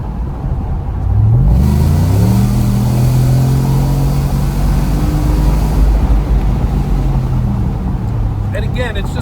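A 2026 Ford F-150's Stainless Works true dual exhaust revs up from idle into a deep, droning roar, holds steady, then drops back, heard from inside the cab with windows partly down.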